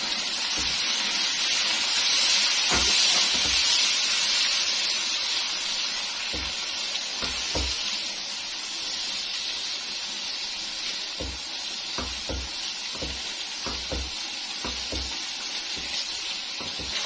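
Milk simmering in a pan with fried spices for Mughlai Chicken Changezi, a steady soft sizzle and bubbling hiss with scattered clicks and taps of stirring throughout, no voices.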